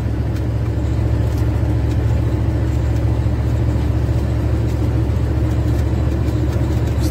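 A KAMAZ truck engine labouring along a rough road, a loud steady mid-range drone heard from the cab with constant rattling and jolts over the uneven surface.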